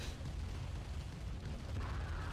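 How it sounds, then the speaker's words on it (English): An explosion in Command & Conquer Remastered shows up as a dense, loud, low rumbling roar that fills the whole moment without a clear single bang, its bursts of noise blending into continuous battle din. "Oh no, that could be a big explosion."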